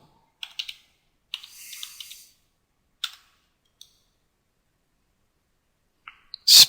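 Scattered keystrokes on a computer keyboard come in short clusters of clicks separated by quiet gaps, close and clear, ending with a louder burst.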